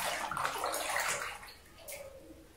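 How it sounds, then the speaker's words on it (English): Running water pours and splashes into a basin, fairly faint, easing off toward the end. "Once the basin is filled up"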